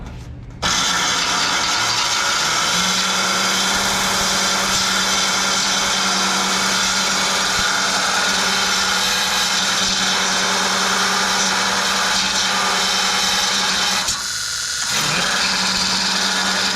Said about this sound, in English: Get the new Milwaukee sander in the show.